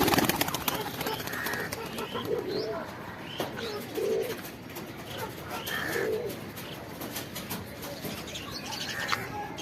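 Shahjahanpuri pigeons court on a rooftop, giving soft repeated low coos with occasional chirps and wing flutters over steady outdoor background noise, moderately distant and fairly faint.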